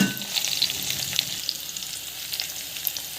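Small onions and mustard seeds sautéing in a pan for kara kuzhambu, a dense continuous sizzle with bright popping crackles on top, close and steady, no voices.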